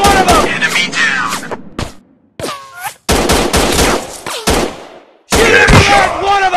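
Rapid automatic gunfire in the army shooting game Ultimate Army Shooter, loud bursts broken by brief silences, with shouted in-game voice callouts mixed between volleys.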